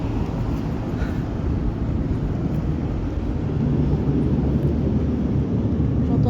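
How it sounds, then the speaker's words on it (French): An airplane passes overhead on a summer holiday outing, a steady low roaring drone that swells slightly as it goes on, with no talk over it. "J'entends des grognements d'avion."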